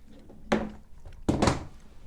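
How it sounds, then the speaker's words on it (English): A phone dropped in a Phoenix Wright: Ace Attorney game scene lands with two dull thunks about a second apart, fairly close and moderately loud, with quiet room tone between. "Dropped my phone"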